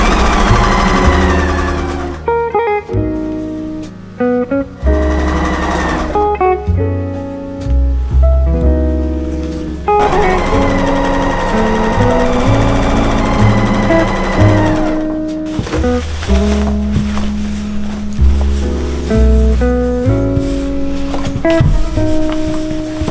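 Sewing machine sewing triangles onto the corners of quilt squares for a table runner: repeated runs of fast, rhythmic motor whir and needle clatter, broken by short stops, with tonal sound running alongside.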